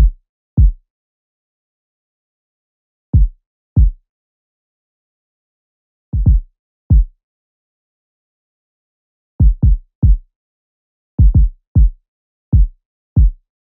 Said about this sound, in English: I went to a kick, which sounds like this.